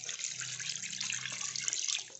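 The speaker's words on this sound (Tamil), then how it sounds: "தண்ணி ஊற்றிட்டோம்." Water pours steadily into a cooking pot for country chicken soup, a close, even splashing hiss with no talk over it.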